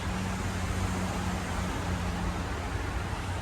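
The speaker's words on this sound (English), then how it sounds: "You hear the traffic up there." Steady road traffic passes on a road overhead near a creek and waterfall, heard as an even, continuous broadband rumble and hiss with a low hum and no distinct vehicles standing out.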